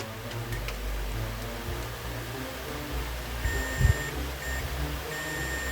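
A multimeter buzzer on continuity mode gives a few short, thin beeps while probing a shorted input line on an LED TV display panel, faint over a low steady room hum.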